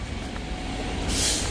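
A city centre bus rumbles past nearby on a street in Derby, a heavy low engine drone that ends with a loud burst of air-brake hiss, with no voices.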